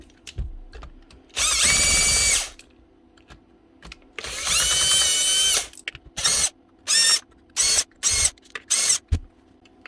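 A cordless DeWalt power drill runs in two long loud bursts, then several short repeated pulses, torquing off the chuck of a broken, cement-clogged DeWalt drill, with no talk.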